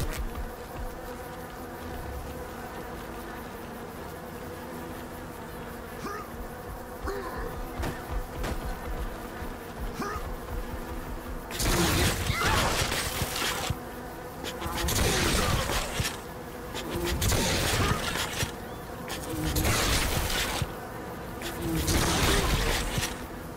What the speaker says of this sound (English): The tormented man could not be subdued with mere bees!